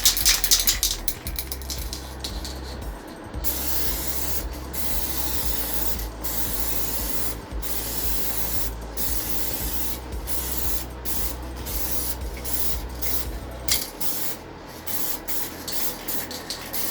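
Short hissing bursts of aerosol lacquer are sprayed onto plastic trim of a Citroen C1 City Bug, several passes of steady spray separated by brief pauses, close and fairly loud, with no talking.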